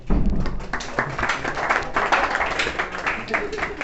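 An audience at a college farewell party claps for a poetry performer stepping up, a brief flurry of close hand claps with crowd voices mixed in.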